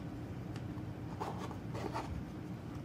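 Zipper pulled closed around a soft portable hack pack case, a few quick rasping zip strokes at close range over low background hum, with no talking.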